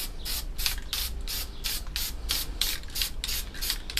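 A spray paint can lays light coats on a car wheel in about a dozen short, evenly spaced hissing bursts, close up and clear over a low background hum.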